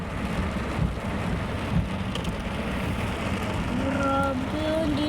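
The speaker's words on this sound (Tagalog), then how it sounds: "Mukha lang mahina yung ulan sa may camera pero malakas." Heavy, dense rain drums steadily on a car stuck in traffic, a continuous broadband hiss with occasional louder thumps. A voice is faintly heard near the end.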